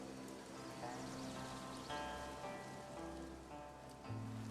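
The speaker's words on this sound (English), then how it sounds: "it looks like it's going to rain" Rain patters steadily in the video game Infinity Nikki, a soft continuous hiss of drops beneath quiet, sustained musical tones, faint and even throughout.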